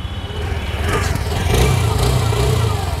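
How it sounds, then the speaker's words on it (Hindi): A TVS Jupiter 125 scooter engine catches through its idle start-stop system and settles into a loud, close, pulsing idle that swells slightly with throttle, no voice heard. "तो आप देख सकते हैं ये गाड़ी स्टार्ट हो गई है"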